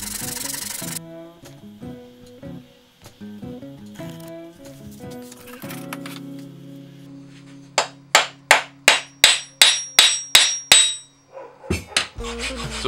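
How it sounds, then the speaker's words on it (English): An old flea-market axe handle has a groove cut from its top down to the shoulder by hand, with no power tools. Quieter tonal sounds come first, then a loud, steady run of about ten sharp back-and-forth strokes. "Now here I'm cutting a groove from the top of the handle to the shoulder."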